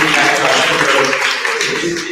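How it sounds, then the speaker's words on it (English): Loud, sustained room applause from a summit audience greeting state senator Sharif Street, a dense steady wash of clapping with some voices mixed in throughout. "Give a round of applause."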